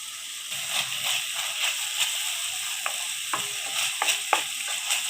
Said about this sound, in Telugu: టమాటా పేస్ట్ కూడా పచ్చివాసన పోయేంత వరకు వేపుకోవాలి.